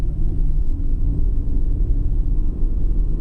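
A Yukon's engine revs under added throttle, a loud, steady low rumble that holds throughout with no talking over it.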